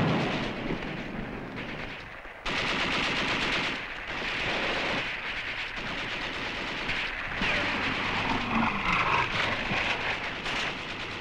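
Machine gun and rifle fire in a 1956 Indochina war film battle, dense continuous rattling bursts with heavy booms, loud and sustained throughout with no pauses.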